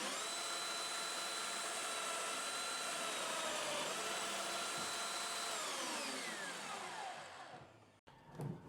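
A plunge-cutting power tool with a vacuum hose attached bores a hole in a shelving unit, giving a loud steady whining roar with tonal harmonics that holds for about seven seconds, then winds down and stops.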